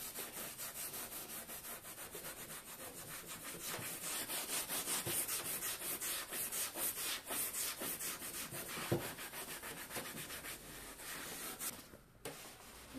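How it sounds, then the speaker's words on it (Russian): Close, steady back-and-forth scrubbing of a Scotch-Brite abrasive pad soaked in remover over a painted leather car seat, rhythmic rasping strokes continuing for several seconds before a brief pause. "Берем скотч-брайт, абразив, макаем и начинаем снимать краску"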